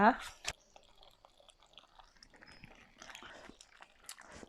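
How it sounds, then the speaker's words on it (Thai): Someone tastes a pot of dried Thai fish kidney curry (tai pla), with soft, close chewing and smacking sounds spread across a quiet room, plus a few sharp clicks near the start. "ขอชิมรสชาติดูอีกรอบนึงนะคะ"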